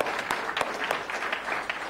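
An audience at a Marathi business motivation talk claps in a brisk, even burst that stays fairly loud and continuous from start to finish.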